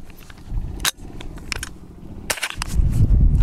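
Rapid shots from a .22LR AR15 rifle fired as fast as possible at a range, several sharp cracks in quick succession with a couple of louder reports standing out, close and loud.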